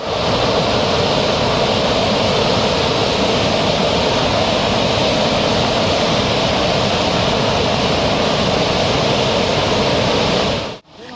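Punnayar waterfall in Idukki roars close by with a dense, unbroken rush of falling water, loud and steady throughout before cutting off abruptly at the end.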